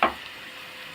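Garlic and dried coriander hit a pan for molokhia tasha, giving a brief loud sizzling burst at the start that quickly settles into a steady, quieter frying hiss.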